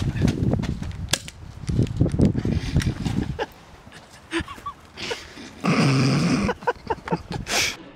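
Sharp, snappy cracks of blank gunfire on a film set pop irregularly, some in quick bursts, with a short noisy rush midway and scattered clatter between shots.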